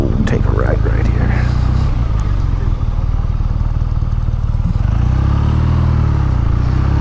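A 2019 BMW R nineT Option 719 motorcycle rides along a road, its engine a steady loud drone with wind rush throughout and a bit of clatter early on.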